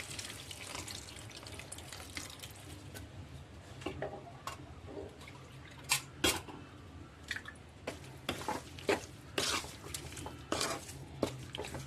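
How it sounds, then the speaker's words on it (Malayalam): Squeezed tamarind water is poured into a bitter gourd curry in a pan, giving soft close splashes and drips with a few sharp clicks and taps of the vessel, and no talking. "വാളംപുളി പിഴിഞ്ഞത് ഒഴിച്ചു കൊടുക്കാം"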